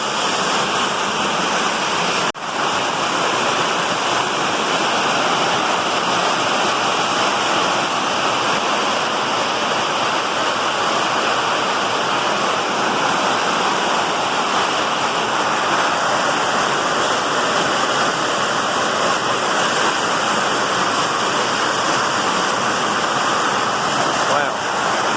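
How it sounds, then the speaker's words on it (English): Heavy rain pours down in a steady, dense hiss that holds at an even loudness throughout, a close, continuous downpour with no pauses. "That rain just started coming down all of a sudden."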